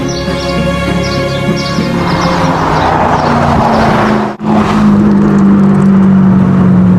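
A Pagani Zonda supercar drives through a small French village, its engine droning loud and close with a steady high whine, briefly cutting out before resuming a strong, sustained growl.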